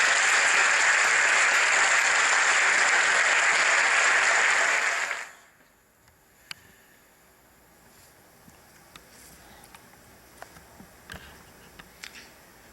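Congregation applause welcoming a pastor in a church, loud and dense for about five seconds, then cutting off abruptly to near silence with faint small sounds.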